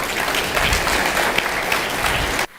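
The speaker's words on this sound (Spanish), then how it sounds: "Fuerte el aplauso para ellos dos" Audience at a cybersecurity, digital acceleration and innovation forum breaks into loud, dense applause that holds steady for over two seconds, then cuts off abruptly.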